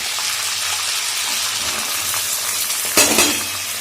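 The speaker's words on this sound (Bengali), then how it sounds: "পেঁয়াজটা একটু ভাজা হোক" Chopped onion dropped into hot oil already tempered with cumin, whole garam masala and bay leaf, for a meat curry: a steady close sizzle that flares louder with a fresh burst of frying near the end.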